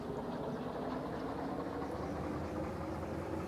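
A locomotive in Derail Valley throttles up, a steady low diesel engine rumble with a dense, even drone and no breaks, heard alone at moderate level.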